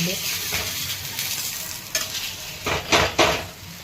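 Dhapate flatbread roasting on a hot pan sizzles softly and close, with a few sharper scraping bursts near the end as the bread is pressed and turned.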